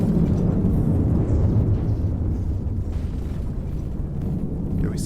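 Rapid-fire shells striking a fast thruster craft in a video game, a dense, continuous rumble of blasts and explosions booming steadily throughout.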